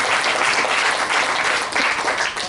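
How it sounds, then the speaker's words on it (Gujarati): An audience at a spoken talk breaks into loud, dense applause, a sustained wash of many hands clapping together with no gaps. "દિલથી આપણે તેમનો જોરદાર તાળીઓથી આભાર માનીએ"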